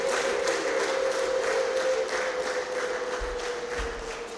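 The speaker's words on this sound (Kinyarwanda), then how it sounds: "Nimumfashe twongere tubaha amashyi n'impundu tuyifuriza umunsi mwiza" Audience applause with ululation at a church gathering, a dense steady roar of clapping overlaid by a sustained high trilling tone, fading slightly toward the end.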